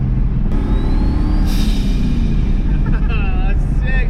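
A compound-turbocharged 5.0 V8 Ford Ranger roars under boost and lets out a sharp turbo blow-off hiss, followed by fluttering whooshes as the throttle closes, loud and close inside the cab.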